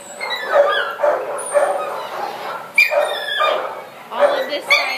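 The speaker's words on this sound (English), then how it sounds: "18 is this little puppy here." Puppy in a quarantine kennel at a city animal shelter giving repeated high yips and whimpering barks in short bursts, close and fairly loud, with a person talking over them.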